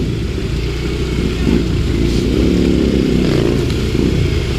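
A motorcycle engine labors loudly up close on loose, soft ground it cannot manage, revving and straining in uneven surges with a rough, rattling tone.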